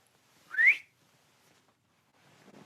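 A single short rising whistle, clear and fairly close, cuts through a quiet church hall. Faint rustling follows near the end.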